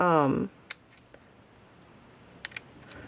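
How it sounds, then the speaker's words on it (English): A brief voice gives way to a few sharp snips of scissors making tiny cuts in a narrow strip of paper, small and close, with quiet gaps between cuts. "take your scissors, and I'm just cutting a little bitty"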